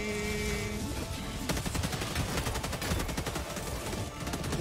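Rapid automatic gunfire from a gun in the video game Helldivers 2, dense sustained bursts of loud shots rattling almost continuously, with brief breaks between volleys.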